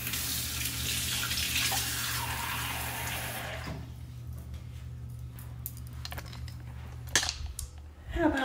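Tap water gushes steadily into a bathtub, loud and continuous at first, then softer with splashing and a few knocks and clatters near the end.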